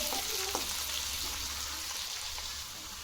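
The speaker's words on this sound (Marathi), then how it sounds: "हा वाटलेला लसूण टाकू, कांदा हे व्यवस्थित भाजून घेऊ आपण।" Crushed garlic and onion frying in hot oil with cumin and mustard seeds make a soft, continuous sizzle with a couple of faint clicks near the start, and nobody talks.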